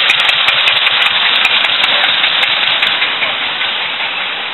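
A small engine on a three-wheeled motorbike with a cargo cart rattles and buzzes loudly and steadily up close, a harsh continuous putter that slowly fades as it moves off.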